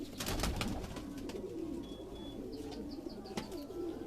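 Pigeons cooing on a rooftop loft in Quetta, soft low coos repeating close by amid rustling and faint background chirps.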